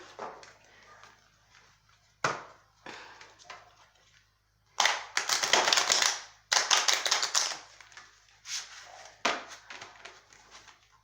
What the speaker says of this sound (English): Just going to shuffle them.